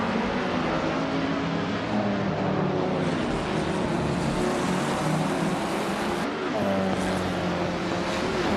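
Engines of race cars droning steadily in a racing video game as the pack speeds off the line, with tonal revs rising and falling and a brief dip as a car shifts or passes.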